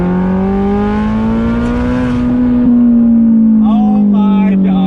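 A 2014 Ferrari California 30 convertible engine pulls hard under acceleration, its loud, close harmonic drone climbing steadily in pitch, with a brief rising rev spike near the end.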